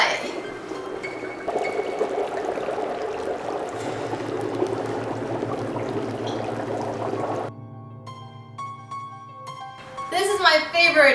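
Water poured over dry ice in a Halloween witch's brew, giving a steady fizzing, bubbling rush with a low buzzing gurgle partway through, then music takes over near the end.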